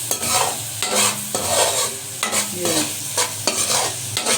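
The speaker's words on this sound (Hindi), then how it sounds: "ये अदरक लहसुन का पेस्ट भी फ्राई हो जाएगा अच्छी तरह से।" Ginger garlic paste and spices fry in oil over low heat for a fish curry, a close, steady sizzle broken by repeated scraping strokes as the masala is stirred around the pan.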